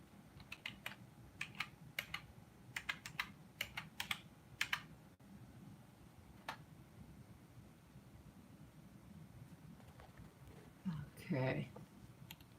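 Typing on a computer keyboard: bursts of quick, close clicking keystrokes in short clusters over the first few seconds, then sparse isolated taps, with a voice speaking briefly near the end.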